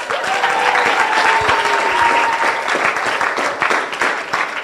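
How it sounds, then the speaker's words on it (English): Loud, dense audience clapping at a symposium fills the whole stretch, steady and sustained with faint whistle-like tones riding over it. "And clap really loud, Miss Tania Hernandez."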